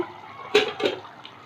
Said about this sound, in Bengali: 2 মিনিট একটু ফুটিয়ে নেব